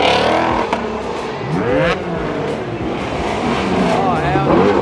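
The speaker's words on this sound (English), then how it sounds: "Oh my god, I'm about to get hit by a Mustang." Ford Mustang passing close at a car meet with a loud, rising engine roar and shifting pitch, while people talk and shout excitedly over it.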